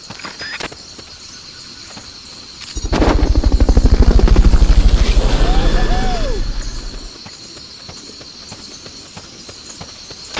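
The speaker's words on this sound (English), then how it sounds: "Fulton recovery subject confirmed onboard helicopter." Helicopter from a Fulton recovery in the video game Metal Gear Solid Peace Walker: a loud, rhythmic rotor chop swells in after a few seconds, peaks, then fades back to a quiet background with no talk.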